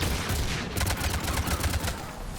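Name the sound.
gunfire in the video game Mass Effect 3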